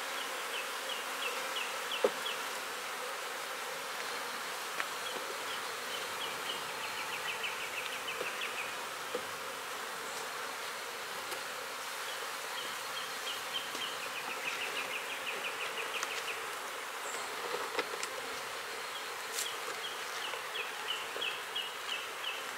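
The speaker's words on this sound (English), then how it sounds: "I'm going to take these bees over here." Honeybees buzzing around a hive outdoors, a faint continuous hum of many wings with occasional closer passes drifting in and out.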